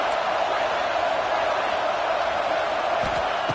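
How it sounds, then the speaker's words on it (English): A fired-up stadium crowd at a college football game against Ohio State sends up a loud, continuous roar that holds steady throughout. "this crowd is fired up. Listen to this noise here."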